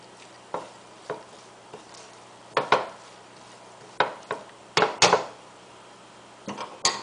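A spoon stirs food with a pinch of salt in a cooking pot while making kalam polo, cabbage rice, giving scattered sharp taps and scrapes, roughly eight clinks spread unevenly, close and moderately loud with no talk.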